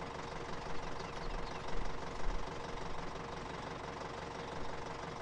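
Lawn mower engine idling steadily at close range, a continuous rumbling drone with slight knocking texture and a few small surges, no voices.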